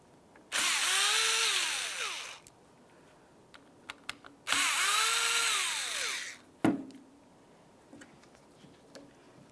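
Power driver removing two small T10 screws from the passenger door lock actuator of a 2000-2005 Buick LeSabre: two loud, close whirring bursts of about two seconds each, then a short clatter.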